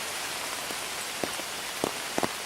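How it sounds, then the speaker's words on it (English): Water dripping and shaking loose from trees in gusty wind on a West Virginia archery hunt, heard as a steady soft wash with a few scattered sharp drops tapping near the end, fairly quiet. "that's not rain, that's the wind blowing and the water coming out of the trees"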